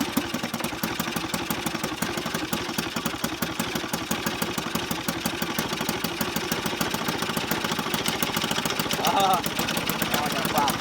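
A 1968 Sears Clinton 3.5 hp small engine idles roughly, its fast uneven putter steady and close throughout with a faint knock, running alone without talk.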